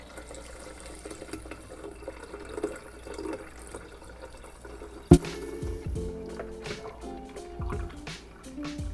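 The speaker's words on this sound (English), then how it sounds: "I'm just gonna put my strainer over the pitcher, and we're gonna pour directly in here" Homemade horchata poured from a blender through a strainer into a pitcher: a soft trickle gives way to a sharp knock, then a steady splashing pour with drips, close and fairly quiet, with no speech.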